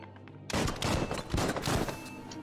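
Rapid gunshots in the video game Biomutant, a loud dense volley of shots fired in quick succession for about two seconds after a short quiet lead-in.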